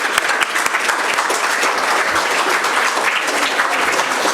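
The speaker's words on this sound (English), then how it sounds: "Give a huge round of applause to her to be on the stage." A crowd at a Quran memorization graduation ceremony for girls applauds loudly and continuously, a dense wash of many hands clapping close by, filling the whole stretch without pause.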